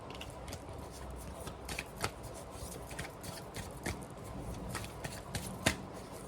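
A deck of cards is shuffled before one card is drawn, giving quiet, irregular riffles and sharp little snaps close by, with no speech.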